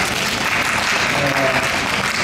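Steady audience applause at a live enka performance during a local-produce fair event at the Fuji Grand Kita-Uwajima store, dense and continuous for a couple of seconds, with a voice faintly audible beneath the clapping.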